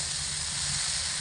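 Chickpeas frying with spices in a pan over medium heat for a vegetarian ghugni, giving a steady, even sizzling hiss throughout, close and continuous with no talk.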